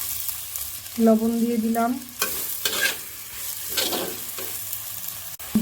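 Chopped vegetables with onion and green chilli are stirred in a dry wok before any oil goes in, with scraping, rustling strokes in irregular bursts. A voice speaks briefly near the start.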